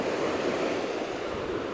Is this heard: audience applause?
no